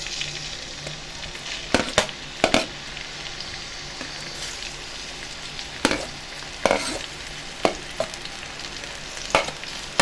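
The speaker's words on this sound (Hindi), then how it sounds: "प्याज को अच्छे तरीके से फ्राई करेंगे।" Onions fry in ghee in a kadai, giving a soft, continuous sizzle with occasional sharp spatula scrapes and taps against the metal, spaced irregularly throughout.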